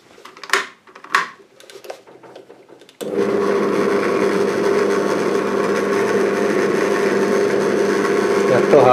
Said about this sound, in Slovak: Nejaké presné vrtanie, tá vrtačka hádže dosť.